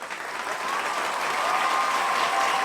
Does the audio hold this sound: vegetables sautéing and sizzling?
no